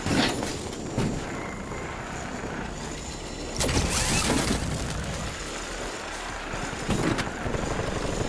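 Helicopter-like aircraft rotor drone from Call of Duty Black Ops Cold War, a steady loud mechanical rumble with sharp bursts and impacts layered over it, continuous throughout with no talking.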